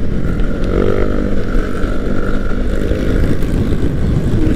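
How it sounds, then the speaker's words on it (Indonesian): Loud engines of motorcycles riding behind on a night ride, a steady, dense roar with wind rumble filling the whole stretch and no talk over it. "Motornya kenceng banget cuy."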